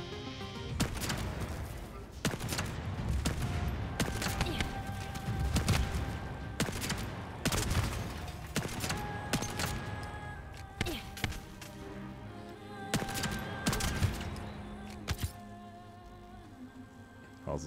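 Hand cannon fire in The First Descendant, a series of sharp heavy shots in irregular bursts with impacts and clangs, loud and close, while someone talks now and then.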